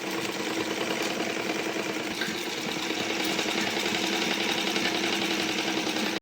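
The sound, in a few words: sewing machine stitching a blouse neck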